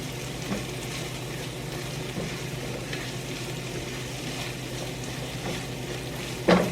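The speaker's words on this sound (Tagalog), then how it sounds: "Kaya unahin ko munang igisa yung mga gulay." Onion and vegetables sautéing in a pan for ginataang alimasag (crab in coconut milk): a steady, close sizzle with faint stirring throughout, ending in a sharp utensil clank.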